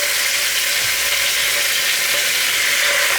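Chicken thighs fry in hot vegetable and olive oil, a loud, steady, close sizzle that holds evenly throughout with no talking.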